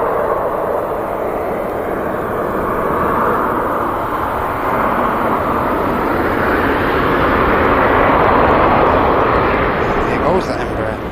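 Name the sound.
Embraer jet at Manchester Airport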